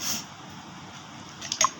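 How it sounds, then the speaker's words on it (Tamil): Kozhukattai flour dough being mixed with hot water using a ladle, a soft, wet squishing sound, faint and brief, with a couple of slightly louder squelches at the end. "இந்த மாதிரி ஒரு கரண்டி வச்சு இப்படியே கலருங்க தண்ணி வந்து கொஞ்சம் கொஞ்சமாக வந்து ஊற்றி பிசைங்க"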